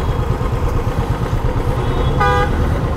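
Dense Mumbai city traffic, a loud continuous rumble of engines close by with a car horn tooting sharply near the end.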